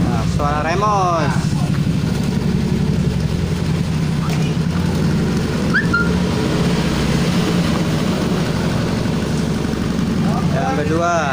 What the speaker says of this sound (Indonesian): Nah, suara Remos.